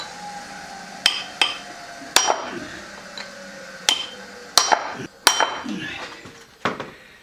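A hammer strikes a chisel against a Foden Fleetmaster 8-speed gearbox casing, about seven to eight sharp, ringing metallic blows at irregular intervals, close and loud.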